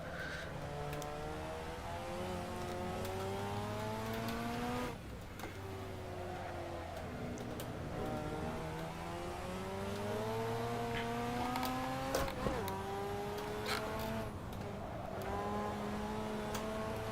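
Mazda RX7 FD racing at Okayama in Assetto Corsa, its rotary engine held in second gear and droning steadily as the pitch climbs and drops through shifts and corners, loud and continuous with occasional tire noise.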